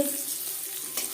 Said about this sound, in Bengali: গাজর, ফুলকপি যেটা আমি ভাপিয়ে নিয়েছি, মটরশুঁটি। হালকা করে ভাজা হয়ে গেছে